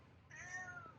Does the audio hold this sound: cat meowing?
yes